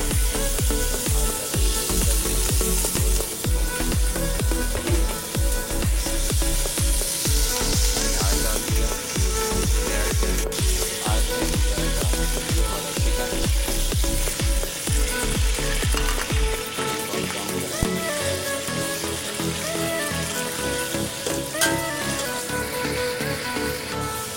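Chopped onion, tomato and capsicum fry in hot oil for shashlik, giving a loud, steady sizzle with a run of rhythmic stirring or chopping knocks in the first two-thirds before it settles into continuous crackling frying.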